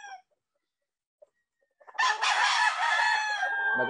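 A Golden Monkey bloodline gamefowl rooster on a game farm lets out one loud, close crow lasting nearly two seconds after a brief faint sound and a near-silent pause.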